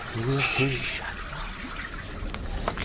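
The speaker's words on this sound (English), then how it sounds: "Water and air flowing through the rocks." Water and air flowing through rocks make a steady, close gurgling hiss that carries on alone after a brief voice at the start.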